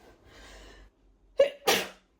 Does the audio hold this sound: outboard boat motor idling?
no